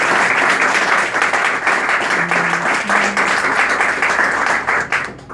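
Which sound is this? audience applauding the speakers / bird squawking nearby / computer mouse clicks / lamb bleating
audience applauding the speakers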